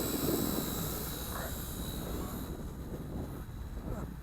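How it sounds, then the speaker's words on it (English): An Eachine E160 flybarless brushless RC helicopter flies in 3D mode nearby, its rotor and motor giving a steady whirring drone that fades slightly, with faint talk. "I don't want that blade to run into me, because helicopter blades can cause damage, especially if you've got a brushless motor."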